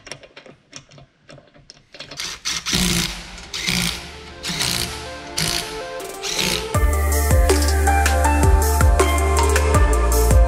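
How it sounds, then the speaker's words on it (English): Rapid clicking and whirring of a power tool tightening wheel bolts on a Citroen Relay camper van, in uneven bursts that settle into steady mechanical ticking with a low droning hum. "Let's get the wheel bolts finished, get it torqued up."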